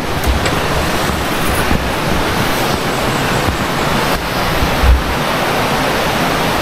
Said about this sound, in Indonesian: aliran sungai langsung di depan kamar kalian